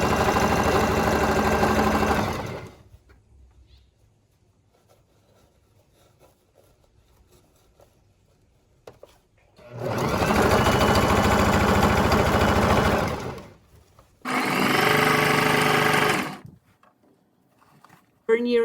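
A sewing machine stitches the raw, fraying edge of a tweed skirt's garter tunnel, running in three loud sustained bursts with quiet pauses between, close up.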